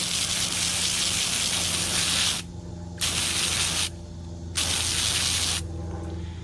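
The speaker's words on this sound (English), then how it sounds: "So I'm gonna spray this thing out real quick." Water spraying onto a muddy fossil clam in strong hissing bursts, three or four long blasts separated by short pauses, close and loud, with no voices.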